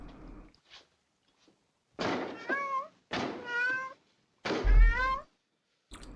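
A cat meows three times, each call drawn-out and rising, with short pauses between them and a soft thump at the start.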